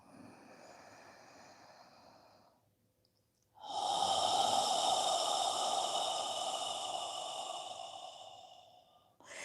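Slow breathing during a yoga exercise: a soft, airy breath is followed by a brief pause, then a longer, louder rushing exhale through the nose, close and alone.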